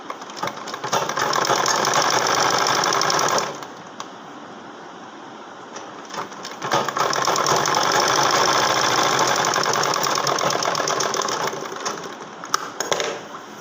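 A sewing machine stitches a saree blouse in close, loud bursts of rapid mechanical whirring, pausing briefly midway before running again at length.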